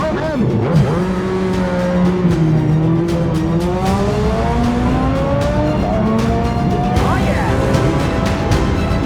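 XR69 racing motorcycle at the Manx Grand Prix pulling away to start a session, its engine revving and climbing through the gears, steady and fairly close, with a voice talking over it.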